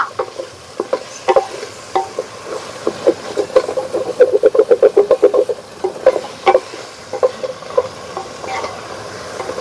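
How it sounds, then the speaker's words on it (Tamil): Tomatoes sautéing in a hot pan, a soft sizzle under repeated scraping stir strokes that quicken into a rapid rhythmic burst midway, then slow to occasional scrapes. "தக்காளி தான் நெக்ஸ்ட்டு போட்டு இதை கொஞ்ச நேரம் நல்லா வதக்கிடலாம்."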